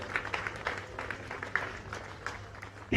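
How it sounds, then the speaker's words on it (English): Audience applause for a team on stage at a festive-season event, faint and distant: a soft, steady patter of many hands clapping for about three seconds, with a louder thump right at the end. "kindly put your hands together for a big round of applause for this great team"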